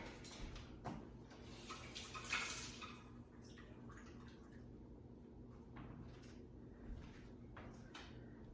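Water runs briefly from a kitchen sink tap while a tablespoon is filled for ginger molasses cookie dough, a soft splashing and trickling with a few faint clinks, quiet and close with no talk.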